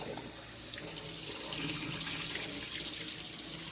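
Tap water runs steadily into a sink while food is washed in a Caribbean home kitchen, a constant close hiss and splash with no talking.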